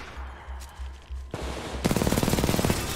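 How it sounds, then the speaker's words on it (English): Rapid SMG gunfire in Titanfall 2 rips out in a fast, steady burst across the second half, following quieter game sounds and a few thumps, loud and close. "Alright, I like this SMG here."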